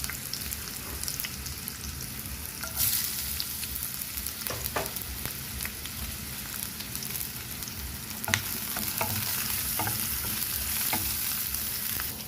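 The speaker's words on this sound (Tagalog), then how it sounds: "Igisa natin ang onion at garlic." Onion and garlic sauté in hot cooking oil in a pan for chicken pastil, a continuous sizzle with occasional spatula scrapes and stirring clatter, close and steady without any talking.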